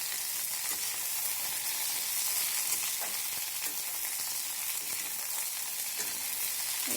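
Okra frying in oil over a high flame while being stirred, a steady bright sizzle with occasional scraping clicks of the spatula, close and continuous with no talk.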